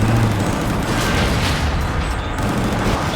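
Continuous gunfire and explosions from the video game Gungrave G.O.R.E fill the whole stretch as a dense, loud, unbroken barrage of shots and booms.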